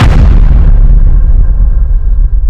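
Bomb explosion sound effect from a crime drama, one very loud, close, booming blast that rumbles and slowly fades out, with no talk.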